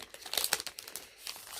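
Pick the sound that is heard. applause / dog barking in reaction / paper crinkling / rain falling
paper crinkling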